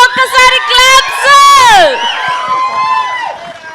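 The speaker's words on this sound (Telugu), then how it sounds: "గట్టిగా వీళ్ళిద్దరికి ఒక్కసారి క్లాప్స్." A live audience at a teaser launch event for the Telugu film Godari Gattupaina, starring Sumanth Prabhas, cheers loudly with high whoops and shouts, the burst peaking early, then settling into a steadier crowd roar.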